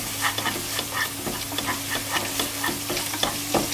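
Jackfruit biryani masala with chili powder sautéed in a pan, giving a steady close sizzle broken by repeated spatula scrapes and stirs, with no talking.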